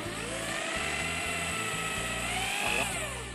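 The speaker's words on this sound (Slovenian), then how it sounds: "vrtati." A power drill bores into a furniture board with a loud, steady whine, close up. The motor pitch dips and rises several times as it bites into the board, with no talking.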